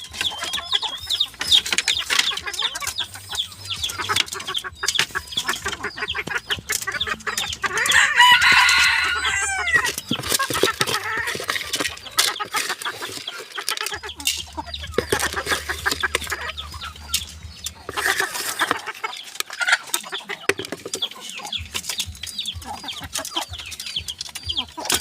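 Hens and roosters at a Filipino gamefowl farm cluck and crow through the clip, several birds close by, with crowing bursts rising over steady clucking and general barnyard noise.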